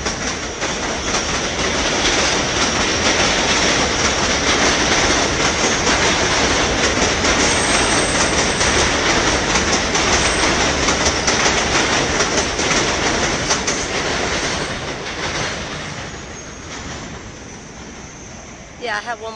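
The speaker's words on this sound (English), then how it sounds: "here comes the train" A train rumbles past close by, loud and continuous with clattering wheels, then begins to fade toward the end.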